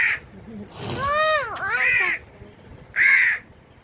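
A hungry crow caws indoors near a bed, giving several loud, close, drawn-out calls separated by short pauses.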